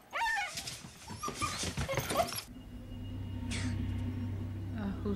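A dog whimpers and yips in a movie scene, its high cries mixed with a voice and other noise at first, then a low rumbling drone with a faint whine later.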